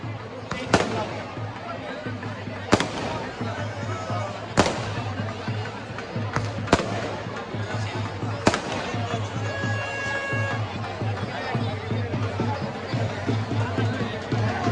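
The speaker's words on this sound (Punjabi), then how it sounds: "ਪਟਾਕੇ ਚਲਾ ਰਹੇ ਨੇ ਜਿਹੜੇ ਸਦੱਸੇ ਪਟਾਕੇ ਚਲਾ ਰਹੇ ਨੇ ਧਿਆਨ ਨਾਲ ਸੁਣੋ" Firecrackers burst at an outdoor Dussehra celebration in Budhlada, Punjab, with a Ravana effigy burning, six or so sharp loud bangs spaced every couple of seconds over a steady crowd murmur and an announcer's voice on a loudspeaker.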